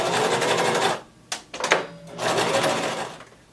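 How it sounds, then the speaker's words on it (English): A sewing machine stitching and back stitching a maxi dress seam, two short runs of rapid whirring separated by a brief stop with clicks. "I'm sewing and back stitching"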